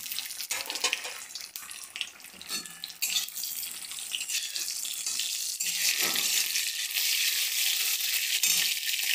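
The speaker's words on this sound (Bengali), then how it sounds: "এবার আমি জিরে ফোড়নটা দিয়ে দিলাম, সঙ্গে কাঁচা লঙ্কা দিতে" Cumin seeds and green chili hit hot oil in a pan for a winter biulir dal, giving a loud, continuous hissing sizzle that swells and stays steady to the end, with no talking.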